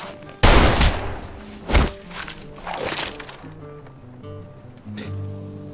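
A single loud, close gunshot rings out in a tense film scene, with a second sharper shot about a second later, followed by thumps and low music that carry on beneath.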